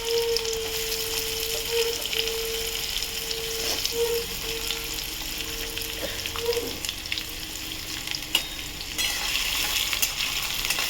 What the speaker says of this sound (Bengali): পেঁয়াজটা ভেজে ফিরছে।